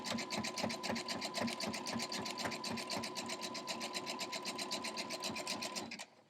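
Sewing machine stitching a fleece and flannel crumb quilt block: a fast, steady rhythmic chatter of needle strokes running continuously at close range, then stopping abruptly at the end.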